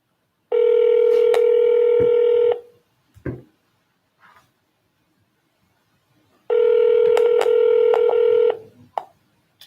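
Telephone ringback tone during an outgoing call: two loud, steady buzzing tone bursts, each about two seconds long, separated by roughly four seconds of near silence, with faint clicks between them.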